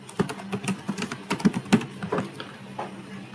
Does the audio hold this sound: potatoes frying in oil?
no